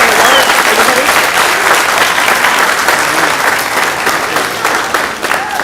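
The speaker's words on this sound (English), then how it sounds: "give them a round of applause." A city council meeting crowd in Fairfield gives a Little League team a round of applause: dense, loud, continuous clapping that stays even throughout and eases only slightly at the very end.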